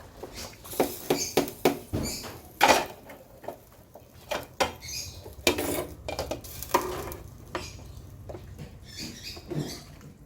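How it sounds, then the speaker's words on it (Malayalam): Rice for beef pulao pours and stirs into a pot of boiling water, producing irregular close scraping, pattering and sizzling bursts with short pauses between them and no voices. "അതിലേക്ക് നമുക്ക് അരി ഇട്ട് കൊടുക്കാം"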